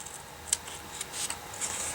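Scissors snip a thin strip of paper at a craft table, several quick, light, crisp cuts close to the microphone.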